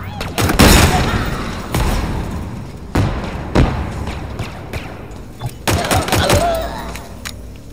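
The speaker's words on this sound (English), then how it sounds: "the weaponry and explosions sound like they have a real impact to them" Halo Infinite gameplay with heavy gunfire and explosions: a string of sharp, booming impacts and thuds at irregular intervals, some loud and close, with rumbling decay between them.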